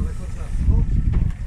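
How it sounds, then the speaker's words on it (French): A boat's motor chugs low and close near Cap d'Agde by Brescou, a rumbling drone with wind buffeting the microphone and people talking over it. "on peut stopper le moteur là"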